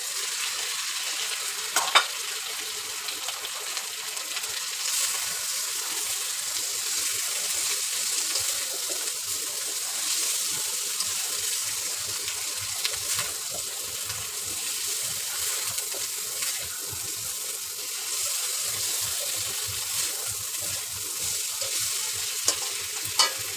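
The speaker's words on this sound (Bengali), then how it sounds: "এখন মাছগুলো দিয়ে কিছুক্ষণ কষাই নেব।" Singi fish sautéing with boiled bitter gourd and potato in a hot pan, a soft continuous sizzle with scattered scrapes and clicks of stirring, fairly quiet and without talk.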